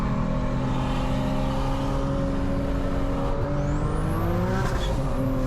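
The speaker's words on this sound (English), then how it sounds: "The turbo sounds so freaking nasty, bro." An 800-horsepower turbocharged Infiniti G37 accelerates hard, its engine a loud, continuous rising drone with layered harmonics and a high turbo whistle sweeping upward near the end, alone without talk.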